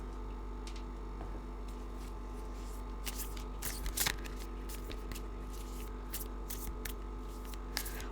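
Tarot cards being shuffled by hand, faint, quiet, intermittent riffling and snapping strokes over a low steady background hum.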